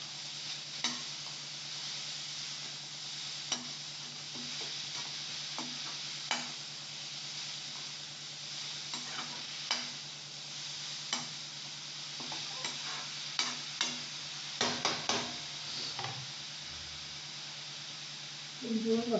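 Carrot poriyal being stirred in a pan, a faint continuous sizzle under a steady hum with scattered light scrapes and taps of a spoon, quiet and close.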